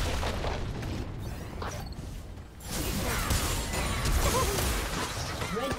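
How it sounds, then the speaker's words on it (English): A League of Legends turret collapses in a dense game mix of booms, crashing debris and whooshes. The sound is loud and continuous, with a short dip before a heavier rumble returns, and no voice is heard. "Red team's turret has been destroyed."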